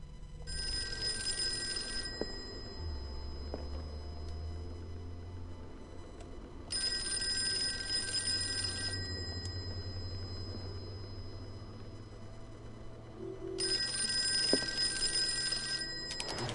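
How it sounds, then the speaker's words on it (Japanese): An old-style telephone bell rings in three long bursts with gaps of low ambient drone between them, heard in the horror video game Call of Cthulhu. "電話だよ。"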